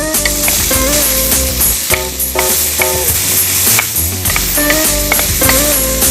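Soaked protein frying in oil cooked with garlic for Vietnamese noodles, a loud steady sizzle with stirring clatter and scraping in the pan, no talking.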